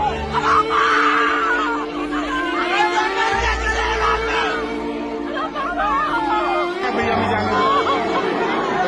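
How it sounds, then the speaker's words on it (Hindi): Frantic crowd noise from a stampede at the Maha Kumbh gathering in Prayagraj: dense overlapping shouts and cries from many people, loud and continuous throughout with no pauses. "लोग चीख रहे हैं, चिल्ला रहे हैं, बचाने की गुहार लगा रहे हैं"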